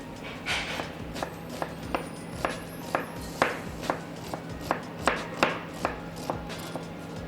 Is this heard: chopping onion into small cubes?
yes